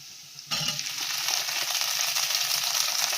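Tender okra dropped into well-fried onions in hot oil, setting off a sudden loud, steady sizzle that carries on close up while being stirred.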